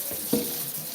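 Water from a saved jug splashes out as it is poured for animals, a brief, close rush of liquid lasting about a second.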